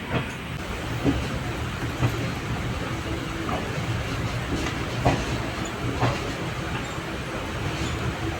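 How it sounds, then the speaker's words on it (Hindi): A Rajgir–Tilaiya special passenger train runs along steadily, with continuous rail rumble and faint periodic clicks of wheels over track joints from inside the moving coaches. "ये ट्रेन 10:55 में राजगीर से तिलैया के लिए खुल गया है।"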